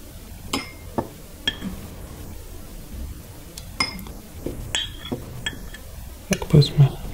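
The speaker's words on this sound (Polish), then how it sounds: "w niewielkiej szklaneczce umieszczamy trochę gęsiego smalcu" Goose fat being put into a small glass while making a salve base, heard as a series of light clinks and taps of glass and utensil, a few sharp ticks spread across the clip with a busier clatter near the end.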